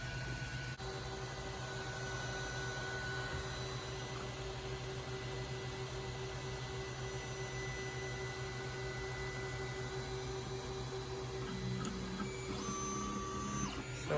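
A 3D printer extruding plastic runs with a steady mechanical hum and faint whirring motor tones, continuous and fairly quiet throughout.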